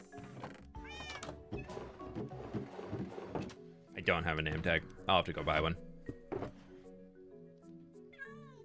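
Minecraft cats meow in short bursts, with a louder run of mewing near the middle, mixed with steady game music and a person talking over much of it.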